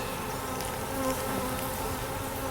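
Honeybees swarm in an open hive during an inspection, a dense, steady, close buzzing drone that holds at an even loudness without talk.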